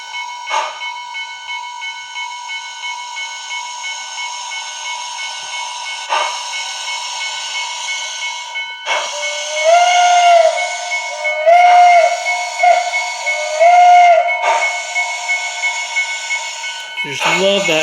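A PRR steam locomotive model with a TCS WOW sound decoder gives off a steady synthetic steam hiss with periodic chuffs, then sounds a few short whistle blasts, all close and fairly loud.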